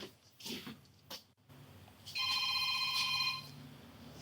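A telephone rings with a bright electronic tone for about a second and a half, loud and close, following a few seconds of muffled shuffling and background noise.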